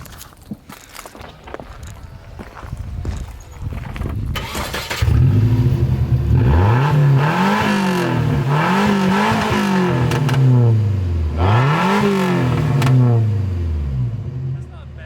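A Nissan 240SX with its muffler deleted cranks and starts after a few seconds of footsteps and shuffling, then idles loudly and revs up and down several times in rising and falling sweeps, with people talking nearby.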